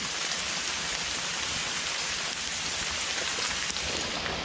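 Steady, dense rain falls in a forest during a mushroom hunt, a continuous loud hiss with no pauses and no voices.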